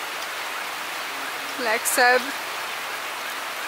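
Heavy tropical rain pours steadily over a jungle as a continuous wash of hiss, while a voice speaks briefly in the middle.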